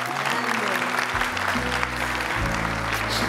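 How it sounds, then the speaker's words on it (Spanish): A TV game show studio audience claps in a sustained burst of applause for a few seconds, loud and close, with low tones beneath the clapping. "Bueno, aplaudimos acá."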